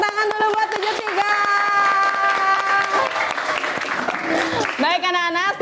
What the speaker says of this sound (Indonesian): tepuk tangan dulu buat 73